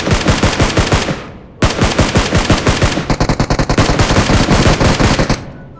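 Rapid automatic gunfire in the mobile battle royale game PUBG Mobile, loud close bursts of evenly spaced shots with brief pauses, the final burst fastest and densest, no speech heard.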